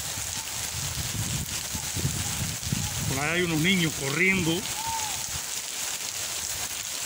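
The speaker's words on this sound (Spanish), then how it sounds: "Está lloviendo fuerte." Heavy rain pours down in Caibarién, a dense, steady hiss of falling water that continues throughout, while someone talks over it.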